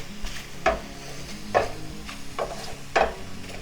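A spoon stirs vegetables with dairy-free sour cream in a pan, making three distinct scraping strokes at an even pace over a soft, low sizzle.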